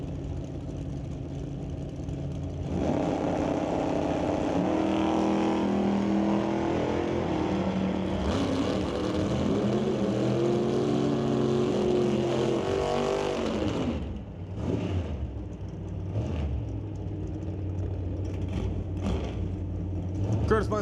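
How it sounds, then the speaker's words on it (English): Two drag cars launch and roar down the strip, a 1989 S10 with a 6-liter LS V8 against a 1981 Malibu, loud sustained engine wail rising through the gears for about ten seconds, then cutting off, followed by crowd and announcer-style talk in the background. "John DeBack with a good old reliable Rad Torque Systems 1989 S10 with a 6-liter LS motor. He races against the 1981 Malibu"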